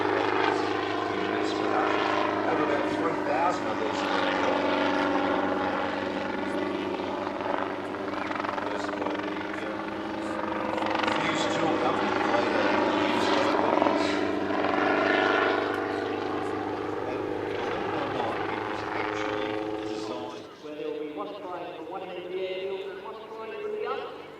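Helicopter flying a low-level air show display, its rotor thudding loud and steady close by for about twenty seconds before fading off, with commentary running over it.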